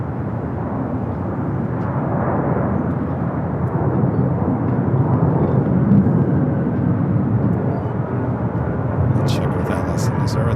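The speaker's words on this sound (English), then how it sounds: "This 767, 34 years of age, delivered to Delta Airlines in January of 1991" A 34-year-old Delta Boeing 767 at LAX gives off a steady, moderately loud jet rumble that holds for several seconds from some distance away.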